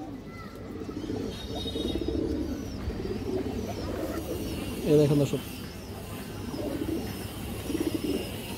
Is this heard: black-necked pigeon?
yes